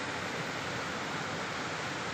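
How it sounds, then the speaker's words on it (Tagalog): Strong floodwater rushing down from upstream during sudden heavy rain, a dense, constant roar of flowing water with no breaks or voices. "Yan, malakas na yung tubig galing sa itaas."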